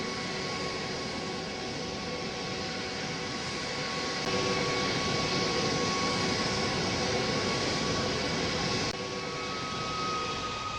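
An airliner taxiing before takeoff, a steady broadband jet-engine roar with tonal whine that holds throughout, growing slightly louder midway and easing near the end, with no voices.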